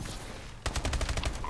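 Video game gunfire from big guns in a shooter game, a sudden rapid burst of loud automatic shots following a brief quieter lead-in.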